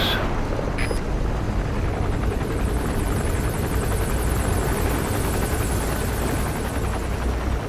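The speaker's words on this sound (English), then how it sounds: "That's an enemy gunship." Enemy gunship helicopter in Metal Gear Solid V: The Phantom Pain, a loud, steady rotor thrum and engine whine filling the whole stretch, close and unbroken, with no voices.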